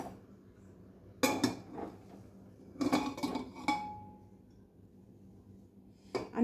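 Metal clatters and clinks in three separate bursts as a hot pressure cooker and cake tin are handled with tongs, moderately loud and close with quiet pauses between, no talking.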